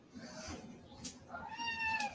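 A cat meows a few times indoors, short faint calls with a longer rising-falling meow near the end, heard in a quiet kitchen with soft background noise.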